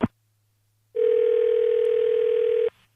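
A steady telephone dial tone sounds alone for nearly two seconds after a brief click of a handset being hung up, then cuts off abruptly.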